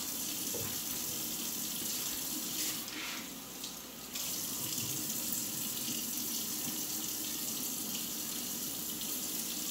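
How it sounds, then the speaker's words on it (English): Food is rinsed under a running kitchen tap. A loud, steady rush of water hisses continuously and dips briefly as the food passes through the stream. "we're gonna bring this over here and rinse it off"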